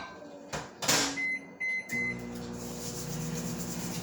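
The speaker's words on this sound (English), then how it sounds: "we're just gonna pop these in the microwave for about 30 seconds" A microwave oven heats cornstarch-thickened dye: a door clunk and beeps give way to the steady hum and whir of the running appliance, close and moderately quiet.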